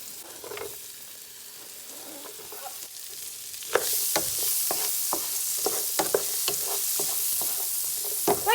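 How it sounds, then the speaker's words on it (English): Onions sauteing in melted butter in a pan for a turkey pot pie, a steady sizzle that grows louder partway through, broken by repeated scraping stirs of a utensil against the pan. "I'm going to get the onions in there, get them sauteed up"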